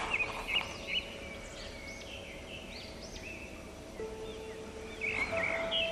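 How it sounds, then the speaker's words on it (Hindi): Birds chirp and call in short, scattered whistling phrases against a soft outdoor background, with a few clearer, nearer calls at the start and end and no talk. "वो पंछियों की चहचहाहट"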